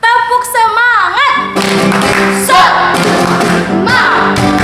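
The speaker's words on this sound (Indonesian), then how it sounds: "Oke, kita akan tepuk semangat." Children at a Sunday school service doing a rhythmic spirit clap, sharp group claps in a quick patterned beat that starts after a brief sung or chanted vocal, loud and close with voices mixed in.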